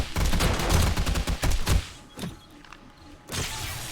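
Automatic turrets in 7 Days to Die hammer out a loud, rapid stream of shots for nearly two seconds, then fall quiet before another short burst near the end.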